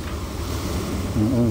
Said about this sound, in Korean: 파도 소리가 좀 강하네요.